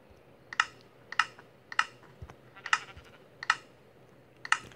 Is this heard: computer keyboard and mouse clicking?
yes